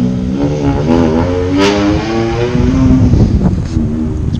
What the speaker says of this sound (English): That is a 4-inch straight pipe aluminum exhaust.